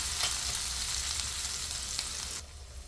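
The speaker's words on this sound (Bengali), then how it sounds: "আমি এখন এটাকে একটু পেঁয়াজটাকে একটু গোল্ডেন কালার করে ভেজে নেব" Onions sizzle and fry steadily in a pan, a dense, continuous crackling hiss close up with no voices, the sound thinning slightly near the end.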